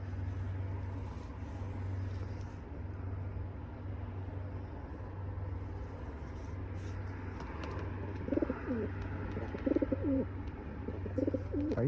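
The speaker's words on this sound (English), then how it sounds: "What a cool bird." A pet bird calls with a few brief soft coos and chirps near the end, over a faint steady low hum, with no voices.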